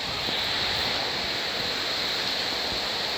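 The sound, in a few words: heavy rain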